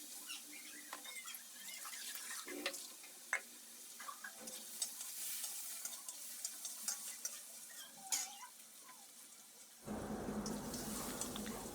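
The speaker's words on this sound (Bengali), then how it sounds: "এখন এই চিকেনগুলো হালকা আমি একটু ভেজে নেব।" Chopped chicken lightly frying in a pan, a faint crackle under clicks and scrapes of a spatula, then a louder burst of sizzling toward the end.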